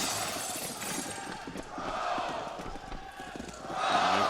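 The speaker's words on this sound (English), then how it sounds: "Hear the crowd." Loud arena crowd roaring and cheering continuously, swelling near the end, with a busy wash of voices throughout, at the CS:GO Major final in Atlanta's Fox Theater, Virtus.Pro versus Astralis.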